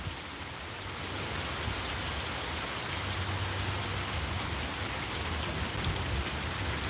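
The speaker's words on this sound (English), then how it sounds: "because it's raining everywhere." Steady rain falling everywhere outdoors, a constant close hiss of drops on surfaces with no voices and an even level throughout.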